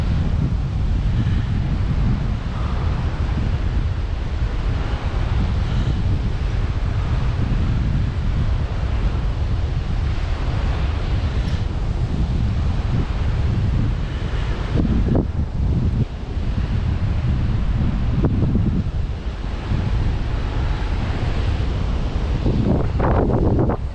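Strong wind buffeting a microphone on a paragliding ridge, a constant loud rumbling roar with gusty surges throughout, no talk.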